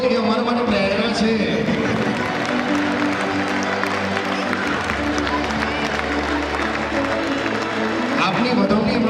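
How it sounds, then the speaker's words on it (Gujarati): Audience applause at a school cultural program, a steady dense wash of clapping filling the whole stretch with music and crowd noise mixed underneath. "મિત્રો, આપની તાળીઓ જ એ અમારા માટે પ્રેરણા છે."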